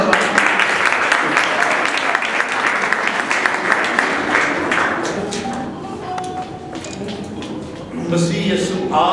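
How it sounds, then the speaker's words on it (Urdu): A church congregation breaks into loud, enthusiastic applause during worship, a dense, close wash of clapping for about five seconds that thins out and tapers off before speech resumes. "زوردار تالیاں."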